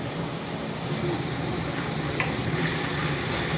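Spices stirred and sautéed in a pan, a faint, even sizzle with light scraping, fairly quiet and steady throughout.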